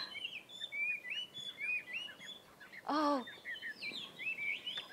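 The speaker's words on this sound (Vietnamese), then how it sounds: "lũ chim hót hay quá" Small birds chirp and sing continuously in a countryside setting, a lively mix of high tweets and trills with one louder nearby call partway through; a person briefly exclaims.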